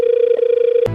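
A telephone rings with a single steady electronic tone held for nearly a second, loud and close, then cut off abruptly.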